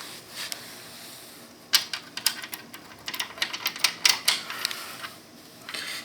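A key goes into an Adams elevator stop switch that resists turning, giving a close series of sharp metallic clicks and rattles that cluster through the middle of the clip over a quiet background.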